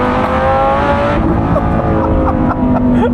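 Loud sports car exhaust under acceleration, heard from inside the cabin of a manual car, a continuous droning engine note with rising pitch sweeps as it revs through the gears.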